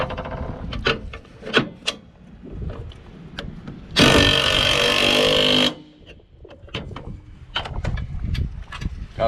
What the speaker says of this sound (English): Gotta love impact guns.